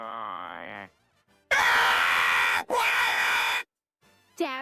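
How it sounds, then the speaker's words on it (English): A man in an AI-generated Family Guy episode lets out two long, loud, strained screams with a brief gap between them, while short bits of other voices sit at the start and end. "Dad, why are you screaming?"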